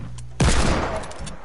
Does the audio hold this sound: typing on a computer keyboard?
no